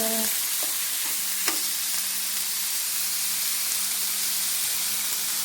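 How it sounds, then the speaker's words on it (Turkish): Minced meat frying in a little oil in a pan, giving a steady, even sizzle throughout with a couple of faint clinks near the start, close by and with no talking. "Arkadaşlar kıymamızı bu şekilde kavuracağız."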